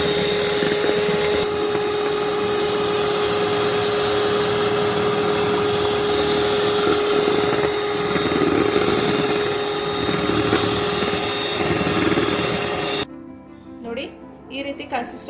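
An electric mixer whirs steadily as it beats powdered sugar into red velvet cake batter made with maida, a loud continuous motor drone that stops near the end, with someone speaking over it.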